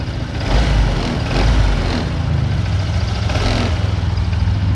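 A Honda PCX 125 scooter engine is revved up close, with a couple of throttle swells rising over a steady idle, moderately loud and alone.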